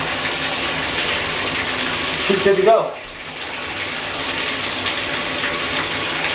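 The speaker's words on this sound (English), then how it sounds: "Run the water." Water from a sink tap gushes steadily into a freshly unclogged drain, loud and broadband throughout, with a brief gurgle and a dip near the middle as someone speaks briefly over it.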